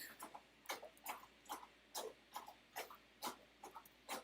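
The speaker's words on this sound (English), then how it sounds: "No, that's my dog drinking." A dog laps water in quick, regular wet slurps, close by and fairly quiet, repeating steadily with no talking.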